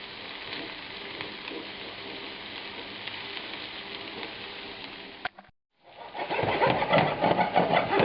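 Swedish meatballs browning in a frying pan, a continuous crackling sizzle that cuts out briefly near the end and then comes back louder and denser, with no talking.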